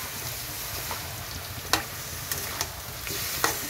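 A spatula stirs chal kumro, ash gourd, frying in a pan, with a soft continuous sizzle broken by a few sharp scraping clicks of the utensil against the metal.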